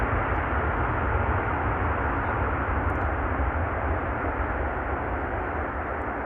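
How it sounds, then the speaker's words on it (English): Airliner thrust reversers roaring just after touchdown at Amsterdam Schiphol, a steady, dense broadband rush of engine noise that holds loud and even throughout with no voices. "And that's reversers being applied."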